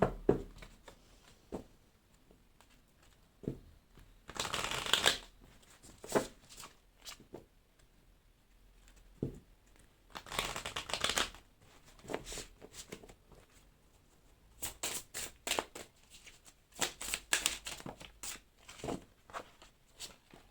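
Tarot cards are shuffled close by in quiet surroundings, with several short papery riffling bursts separated by lighter taps and handling sounds. No voice is heard.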